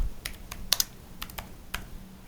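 Quick bursts of keystrokes on a computer keyboard while a name is entered, several light clicks in an uneven rhythm, close and fairly quiet with no voices.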